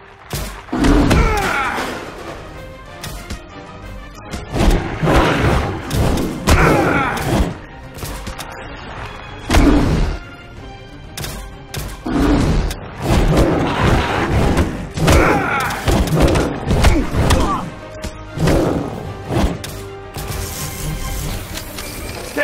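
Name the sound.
artillery bombardment in The Golden Compass video game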